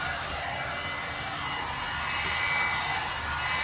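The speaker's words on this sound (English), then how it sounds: "I love this blow dryer." A blow dryer with smoothing plates runs steadily while drying frizzy hair, a continuous broadband whoosh held close and fairly loud, with no talking.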